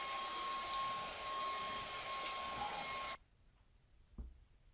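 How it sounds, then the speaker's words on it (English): A handheld 2-in-1 air blower and vacuum runs blowing away sand, a steady high-pitched whine with a whistling tone that cuts off abruptly, followed by quiet and a soft thump. "And of course it blows away sand without any problems."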